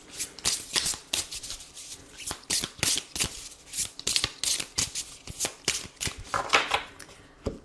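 Tarot cards are shuffled by hand, close and crisp, in a rhythmic series of quick riffling bursts separated by short pauses.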